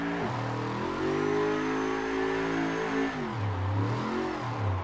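High-horsepower drift car doing donuts, engine revving loud and close, with rising and falling harmonic pitch sweeps and a drop to a lower idle-like growl near the end.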